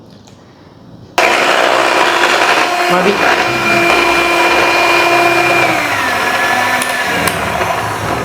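An electric cake mixer switches on and whirs loudly and steadily, beating coconut cake batter with eggs, its motor pitch wavering slightly as it works; a voice says one short word over it.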